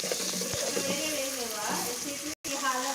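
Ginger frying in hot oil as it is stirred for a home-style chicken curry, a steady soft sizzle running throughout with faint scraping, briefly cut off near the end.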